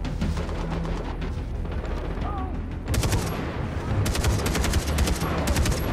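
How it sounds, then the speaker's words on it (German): Rifle gunfire in the video game Far Cry 3 cracks out in rapid bursts of repeated shots over a constant low rumble of game ambience, growing denser in the second half. "Das Gewehr knallt auf jeden Fall rein"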